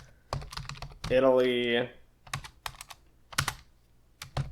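Computer keyboard typing as R code is entered to build a vector, bursts of sharp close keystrokes around a brief spoken word in the middle.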